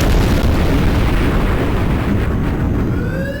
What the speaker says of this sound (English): Sir, there's been an explosion in Sector C.